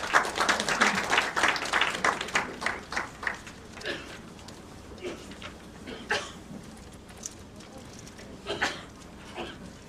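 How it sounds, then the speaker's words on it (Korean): A conference audience applauds to welcome Professor Baek Yoon-soo of Yonsei University, clapping strongly at first and then thinning to scattered claps. "큰 박수로 환영해 주시기 바랍니다."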